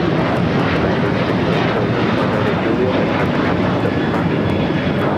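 A Delta Air Lines Boeing 737-800 jet taking off at LAX, close and loud, producing a dense, continuous roar of engine thrust with a steady high whine and no talking.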